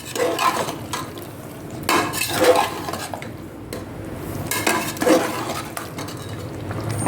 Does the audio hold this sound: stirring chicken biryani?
yes